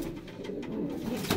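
Pigeons from a breeder's flock coo softly and continuously at a modest distance, with low rounded calls rising slightly toward the end.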